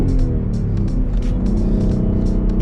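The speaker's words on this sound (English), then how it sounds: "Oh my God, the wheel spin." Ford Mustang GT on the road spinning its wheels while accelerating hard, a loud close engine roar with a rough, rumbling rasp that holds steady across the short burst.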